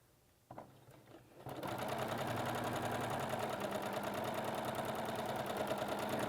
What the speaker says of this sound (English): We're going to take our piece and line it up in our machine, making sure that we're going to sew 1/4 inch away from the drawn line.